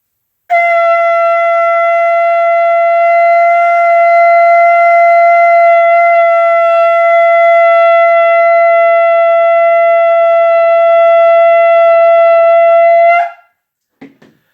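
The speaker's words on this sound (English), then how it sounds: "it takes a lot of air to blow through a shofar" A single long, steady shofar blast with a bright, buzzy tone, held loud and unbroken for about thirteen seconds before cutting off abruptly.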